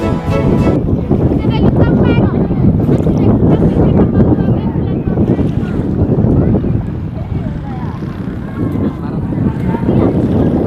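A boat runs on Lake Toba near Lumban Bulbul beach in Balige, a loud steady engine rumble with heavy wind buffeting and water wash, under people talking throughout.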